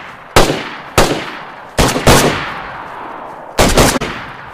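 Gunshots in the video game DayZ ring out as about six sharp, loud reports, a couple in quick pairs, each trailing off in a short echoing decay, with no voices.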